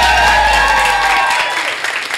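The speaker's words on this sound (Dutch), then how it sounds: "Door blijven klappen, door blijven klappen, door blijven." Loud, dense audience clapping at a poetry slam in a Rotterdam library reading room carries on steadily and close, with some cheering in the crowd, then eases a little toward the end.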